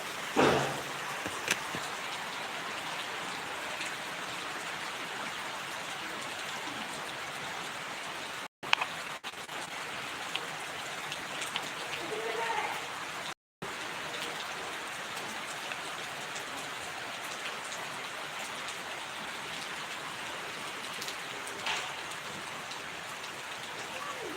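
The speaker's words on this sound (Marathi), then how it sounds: "हो मित्र खूप पाऊस पडत आहे" Heavy rain pours down steadily in a dense, continuous hiss, with two brief cutouts and no voices.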